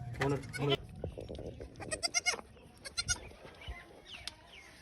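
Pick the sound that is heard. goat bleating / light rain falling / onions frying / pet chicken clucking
goat bleating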